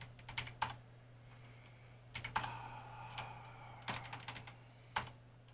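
Someone types in short bursts on a computer keyboard while setting up a Sound Blaster 16 sound card, the clicks close and fairly quiet over a steady low hum, with pauses between bursts.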